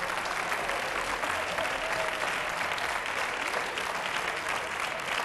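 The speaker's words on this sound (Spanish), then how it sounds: "Vamos, aplaudid si queréis" A television studio audience on a Spanish comedy show applauds in a dense, steady burst that holds at an even level throughout, with no talking.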